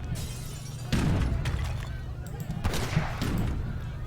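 Musket volleys from Minutemen in a real-time strategy battle game, heard as repeated crackling bursts of massed fire over a steady low battle rumble, with two heavier volleys standing out.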